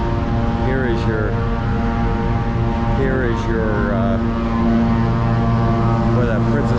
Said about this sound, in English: And maybe that was a seaplane.